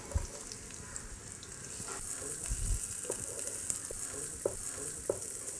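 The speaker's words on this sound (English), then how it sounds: "There goes the ginger, green chilies, and the sliced shallots." Ginger, green chilies and sliced shallots sizzling in coconut oil for a Kerala fish moilee, a steady hiss with scattered small pops and crackles, close and fairly quiet with no talking.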